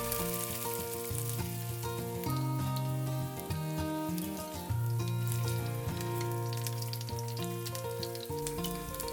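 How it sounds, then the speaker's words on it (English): Burdock chicken patties fry in hot oil, giving a constant bright sizzle and crackle that runs throughout, partly masked by loud melodic background music. "Fry both sides."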